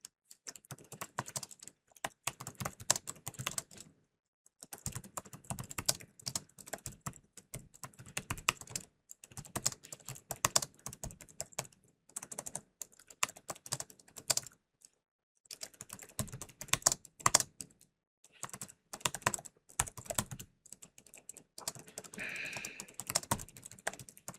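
Steady typing on a computer keyboard, with bursts of rapid key clicks broken by short pauses. The keys sound close but soft, and no one speaks.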